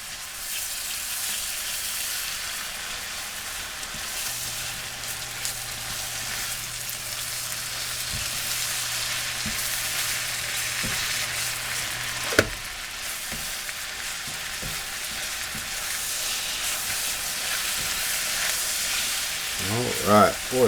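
Minced shrimp frying in hot oil gives a loud, steady sizzle for the whole stretch, with a sharp clink midway and a few light knocks near the end.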